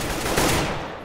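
A short, dense burst of rapid gunfire in Counter-Strike: Global Offensive, loud and continuous for about a second, with no voices over it.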